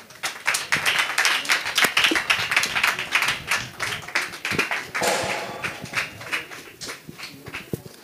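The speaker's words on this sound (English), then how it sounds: "a round of applause for them" A crowd at a school debate championship claps in a burst of applause, dense irregular hand claps filling the room for several seconds without any voices.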